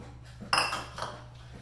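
A spatula scrapes melted Kerrygold butter around a pan, giving one short bright metallic scrape followed by a softer second stroke, close and fairly loud over a quiet hum.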